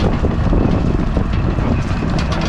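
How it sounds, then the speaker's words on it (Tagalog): Strong wind roars and buffets continuously, loud and close, with no voices and no letup. "Lumalakas yung hangin"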